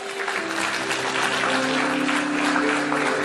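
A church congregation applauds with dense, continuous clapping that holds steady and fairly loud from start to end.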